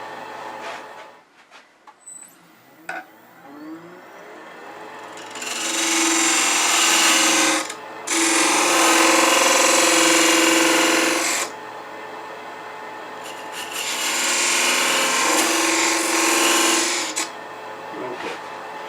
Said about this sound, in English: Now, I tend to use a thin parting tool for this.